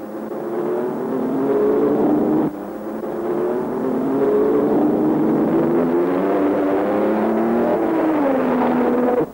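Race cars circulating at the 1953 Le Mans 24-hour race: a steady engine drone with pitch rising and falling as cars pass, loud and continuous with no talk.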